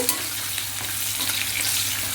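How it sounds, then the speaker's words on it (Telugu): A loud, continuous sizzle of garlic and curry leaves frying in hot oil, crackling steadily up close with no voices. "తర్వాత కరివేపాకు, ఈ వెల్లుల్లిపాయ చక్కగా వేగాలండి"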